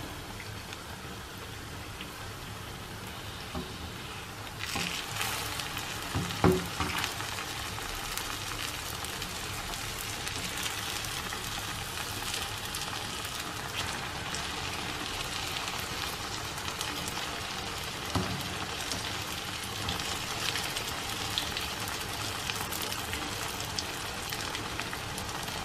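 Bread slices fry in hot oil in a pan, giving a steady dense sizzle that crackles like rain throughout. Around five seconds in, a brief louder flare of spattering rises, then the frying settles back to an even hiss.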